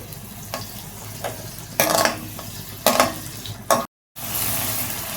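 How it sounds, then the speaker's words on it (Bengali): Spice paste frying in oil for a katla fish head curry, a steady close sizzle broken by several bursts of a spatula scraping and stirring against the pan, then a brief cut to silence. "এই যে মশলাটা দিয়ে একটু নেড়ে দিলাম এটা যতক্ষণ না একটু তেল উঠে যায় ততক্ষণ আমরা অপেক্ষা করি"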